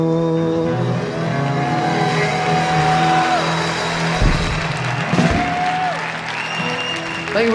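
Crowd applause at a live concert, following a trumpet performance: a loud, sustained wash of clapping with a few brief bursts mixed in.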